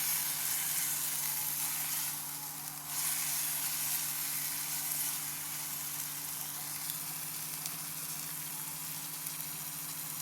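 Steady sizzle of a pan sautéing ingredients for a green pea kurma, with ginger-garlic paste going in, continuous and close with a brief dip around the middle, no talking.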